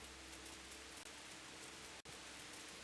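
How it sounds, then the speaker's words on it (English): Rain falls steadily in Kingdom Come: Deliverance, a soft, even hiss of drops, faint and continuous with two brief dropouts and no talking. "It's raining."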